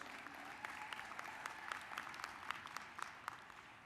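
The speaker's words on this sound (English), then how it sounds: "Give her a round of applause if you would, please." Applause from a convention audience fills the hall at a steady, moderate level, with scattered sharper claps standing out through the 3.9 seconds and no voices over it.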